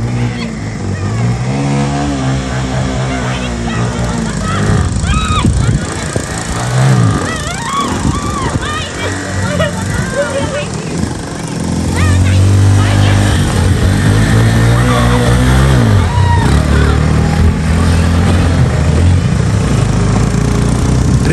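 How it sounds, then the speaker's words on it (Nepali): A scooter engine revving and droning steadily while being ridden uphill, loud and close throughout, with people talking and shouting over it. "त्यसैले स्कुटर राम्रो चलाउँदो रहेछ"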